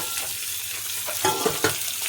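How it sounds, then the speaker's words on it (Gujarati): Potatoes frying in a pan with peanuts and chillies, stirred with a spoon: a steady sizzle with a few louder scraping stir strokes near the end, close and alone. "આપણે બટાકા નાખીએ હવે."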